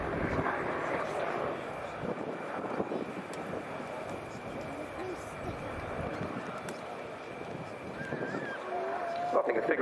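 A Mangusta attack helicopter flies a display figure-eight at an air show, its engine and rotor noise a steady distant roar under a commentator's voice.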